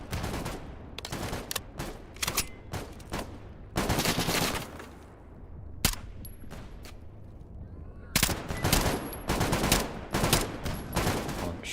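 Heavy bursts of automatic gunfire in the Stalker 2 GAMMA shooter, dense rattling volleys clustered in two loud stretches with a quieter gap between, a few isolated single shots in the lull.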